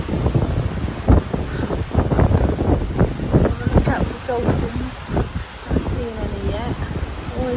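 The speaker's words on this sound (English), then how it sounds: "Windy, a little bit choppy today" Strong wind buffets the open deck of the P&O cruise ship Azura at sea on a choppy Mediterranean day, with gusty rumbling microphone noise beneath a voice talking close by.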